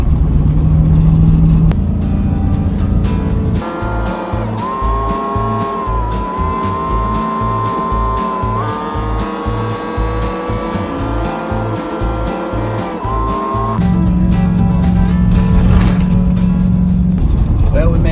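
An old square-body Chevrolet Suburban engine drones and labors up a long, steep hill, a loud, sustained rumble heard from inside the vehicle that shifts pitch as it pulls, with a voice speaking over it.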